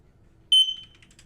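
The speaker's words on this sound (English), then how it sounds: "You'll hear a beep." An alarm device sounds a single sharp, loud test beep close by, a piercing tone that holds briefly and then fades and flutters out in a quiet room.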